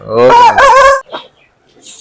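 An Aseel rooster crows once, loud and close, a long strained call with a short break partway, followed by a few faint rustles and a distant chirp.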